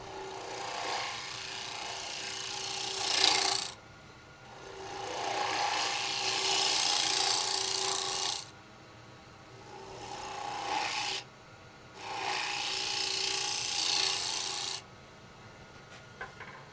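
A woodturning tool scrapes across a cracked cypress hollow form on the lathe and does not cut cleanly. Four rough, raspy passes of a few seconds each come close and fairly loud, with quieter gaps of lathe hum between them.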